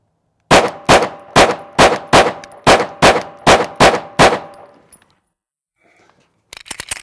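Ten sharp pistol shots from a Canik TP9SA fired in an even, steady rhythm, each loud crack followed by a short ringing decay, then quiet with faint clinks and a brief rustle at the end.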